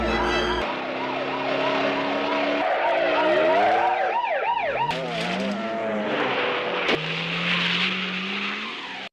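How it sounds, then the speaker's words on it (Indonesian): A film car chase with a siren wailing over racing engines, then a screech of skidding tires and sharp crashing impacts as a car overturns, all loud and close. "mobil yang dikendarai oleh Will terbalik"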